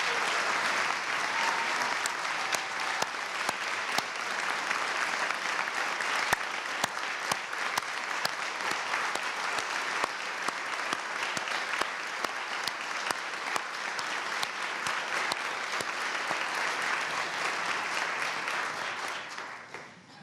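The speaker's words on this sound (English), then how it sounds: "Please give them a round of applause." A large audience at the Virginia Governor's State of the Commonwealth Address applauds state health officials with sustained, dense clapping that carries on evenly for about twenty seconds before tapering off.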